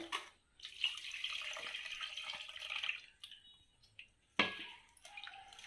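Tamarind water pours steadily into a pot for a couple of seconds, then stops, followed by a few splashes and a second short pour.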